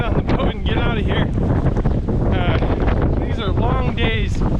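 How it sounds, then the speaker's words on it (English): Strong wind buffets a microphone on an island in Alaska, a loud, constant roar filling the whole stretch, with some voices and harmonic tones mixed in underneath. "The tent had to come down because the winds were taking it"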